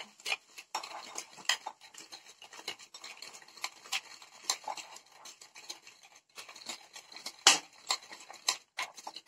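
A mixture stirred with white spirit vinegar as a homemade drain unclogger in a washbasin, heard as a quiet run of irregular clinks and scrapes of a utensil against a container, close and fairly faint, with no talk.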